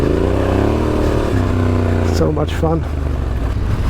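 A Ducati adventure motorcycle rides off-road across off-camber sandy ground, its mid-pitched engine droning and briefly revving and shifting up and down, with a rider talking close over it.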